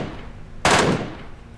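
A burst of MK14 rifle fire in a mobile battle-royale shooter, one sharp loud onset rolling into a dense sustained volley that tails off over about a second.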